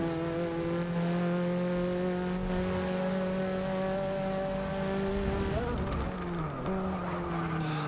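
An Opel Manta race car in the Forza 6 video game holds a steady, loud engine drone through an online race, with a brief dip and recovery near the end like a gear change or slide.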